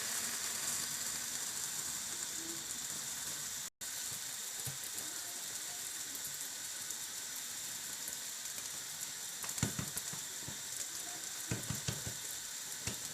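A Moroccan msemen crêpe fries in an oiled pan, a faint, steady sizzle with a few brief crackles toward the end.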